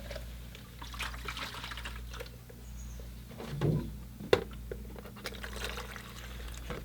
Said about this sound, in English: So I'm just filling up my water pail.